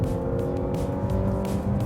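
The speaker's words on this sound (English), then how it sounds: "this feels rapid, and it also gives off a lovely engine note." Mazda CX-60 plug-in hybrid's engine pulling hard under acceleration, a loud, steady, close-up drone with strong low harmonics and no pauses throughout.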